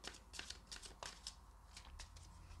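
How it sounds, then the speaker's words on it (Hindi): Tarot cards being shuffled close by, with quick papery riffles and flicks in short bursts, faint and without talk. "और एक बार शफल करती हूँ।"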